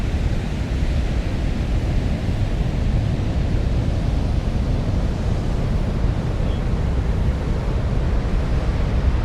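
A powerful, unbroken roar of Niagara Falls, loud and deep, with constant rushing noise and no other sounds.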